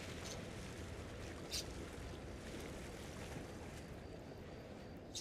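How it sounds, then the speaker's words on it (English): Sneaker waves wash in on a shore in the video game The Outer Worlds 2, a soft continuous surf rush with a brief louder splash partway through, fairly quiet and with no talk. "Dang sneaker waves. Come in and hit me."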